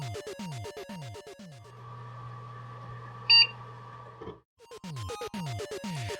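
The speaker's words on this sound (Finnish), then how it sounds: "Sehän on se pieni piippaus, mikä kuuluu, kun tietokoneeseen laitetaan virrat päälle." A PC speaker gives one short, high beep as a computer is switched on. It sounds over a steady low electronic hum, with brisk music before and after.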